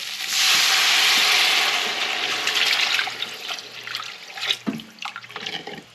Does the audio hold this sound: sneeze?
no